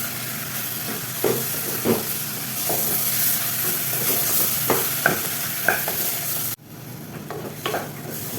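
Black-eyed beans (lobia) with fine coconut paste are stirred in a hot pan, a steady close sizzle broken by repeated spoon scrapes and soft knocks, briefly dropping away before the scraping resumes.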